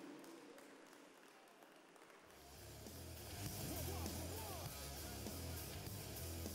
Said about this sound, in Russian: Ваши аплодисменты, Павлодар!